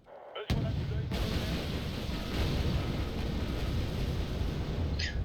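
A heavy, sustained roaring blast from an internal explosion in a naval video game bursts in after a brief quiet start, filling the clip with dense rumbling noise and a faint high tone near the end.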